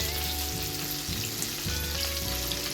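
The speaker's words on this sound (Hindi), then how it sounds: "अब मैं इनको फ्राई करूँगी" French fries coated in crumbs bubble and sizzle steadily in hot oil at close range, a continuous dense frying hiss with faint low rumbling underneath and no voices.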